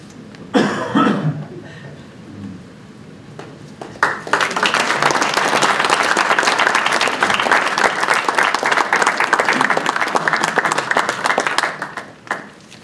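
Applause from the audience at a Spearfish city council meeting starts after a brief cough and murmur, then swells into steady, dense clapping for about eight seconds before tapering off.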